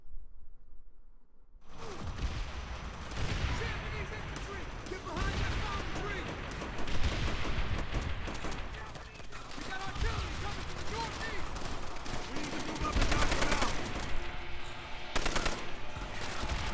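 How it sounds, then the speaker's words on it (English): Gunfire in Call of Duty: World at War erupts after a brief silent start, with machine-gun bursts and scattered shots rolling on through a chaotic, steady battle din that swells near the end. "I don't even know who's shooting at me"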